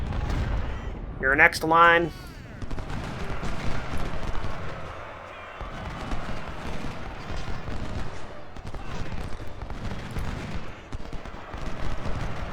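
Cannon and rifle fire rumble through a Civil War battle at Sharpsburg in the strategy game Ultimate General: Civil War, a steady barrage of overlapping booms and crackling volleys with someone talking over the start.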